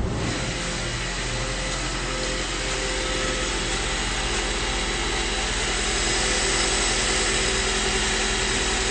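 A 2008 Honda Accord EX-L sedan's engine idles with a steady, even hum running unbroken for the whole stretch, smooth and close with no voices.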